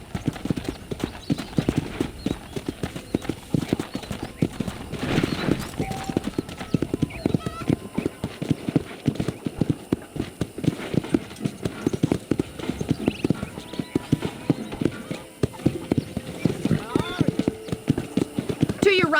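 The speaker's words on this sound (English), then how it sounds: "I picked out a fine horse for you." Horse hooves clip-clop steadily in the Western game Red Dead Redemption, a continuous loud rhythmic trot with occasional whinnies, while people talk over it.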